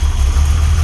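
A vehicle engine runs steadily while the system is bled, giving a loud continuous low rumble with a constant drone and no talking.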